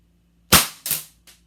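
Three semi-automatic shots from a Knights Armament PDW: two sharp cracks in quick succession, then a fainter third report, with no talking.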